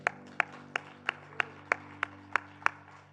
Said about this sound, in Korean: 우리 주님께 영광의 박수 올립시다